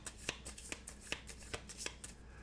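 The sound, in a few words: shuffling cards of level 1 monsters for a board game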